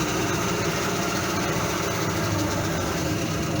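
Glasstron boat engine idling steadily after starting, a constant loud rumbling drone with no talk.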